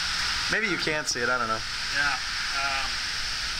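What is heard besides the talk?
heavy downpour rain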